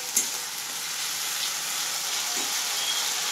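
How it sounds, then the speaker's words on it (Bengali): Two spoonfuls of ginger-garlic paste fry lightly in a pan for a prawn malai curry, producing a loud, continuous close sizzle with a brief stir clatter near the start and no voices. "দু চামচ দিয়েছি আদা রসুন, একটু এইভাবে আমি ভাজবো"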